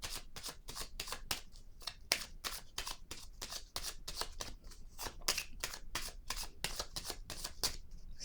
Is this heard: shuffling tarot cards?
yes